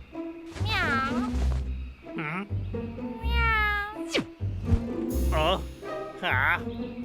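A cartoon cat meows repeatedly in drawn-out, wavering cries, mixed with animated character voices speaking Tamil between and over the meows.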